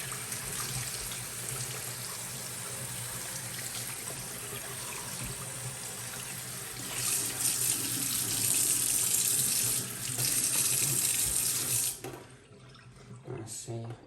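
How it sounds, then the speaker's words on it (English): A tap runs steadily while a Miele washing machine detergent drawer is rinsed under it. The water gushes and splashes continuously, grows louder partway through, then drops off abruptly near the end. "then just rinse it all off."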